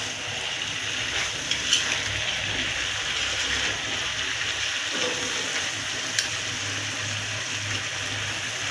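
Rohu fish heads and vegetables are stirred in a pan, giving a steady soft sizzle and wet, scraping movement throughout, with a couple of faint clinks from the utensil and no talking.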